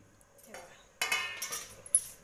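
A spoon stirs khichdi ingredients inside a metal pressure cooker, giving light metallic clinks and scrapes that start soft, then grow busier and louder with a few sharp taps near the end.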